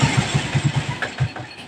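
A three-year-old stock motorcycle engine runs steadily nearby, its low putter pulsing in an even rhythm with a few faint higher rattles, no voices over it.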